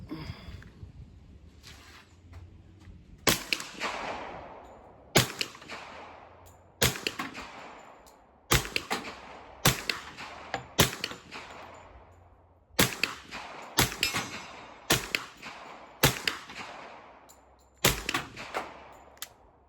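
Kriss Vector 10mm fired in about ten sharp, loud shots spread out at irregular intervals, each a hard crack with a ringing decay, and spent brass rattling onto a nearby tin roof.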